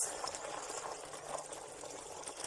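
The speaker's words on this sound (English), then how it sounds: "I'm going to be blanching right now with boiled water" Boiling water poured over fresh raw peanut granules for blanching, a faint bubbling, splashing hiss that continues steadily for a couple of seconds, with no talking.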